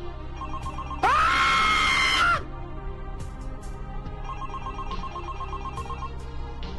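A telephone bell rings in a short burst, followed by faint, softer repeated ringing in a quiet room.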